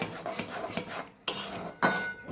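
Spoon scraping and clinking in a pan as salt is stirred into thickened milk for baked rasgulla on low gas flame; several close, sharp metallic taps and scrapes with brief pauses, no talking.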